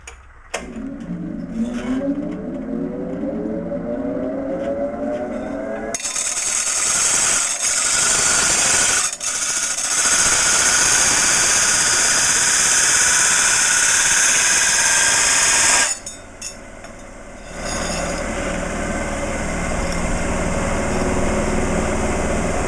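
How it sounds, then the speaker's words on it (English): A 30-inch Oliver disc sander whirs loudly as a fabricated Willys Jeep rear body mount is pressed against it, with the motor spinning up, a long steady grinding hiss, then the sound briefly dropping before resuming. "we're going to throw it on the disc sander. This is a 30-inch Oliver disc sander, and smooth everything up."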